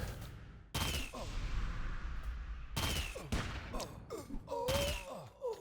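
Enemy gunfire in the online role-playing game Anarchy Online: three loud, close bursts of rapid shots separated by short lulls, with faint game ambience in between.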